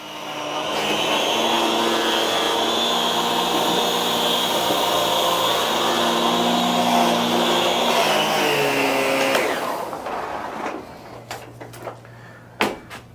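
A Miele Guard L1 vacuum cleaner runs loud and steady on the floor with a continuous whining roar. After about nine seconds it powers down, followed by a few handling clicks and knocks nearby.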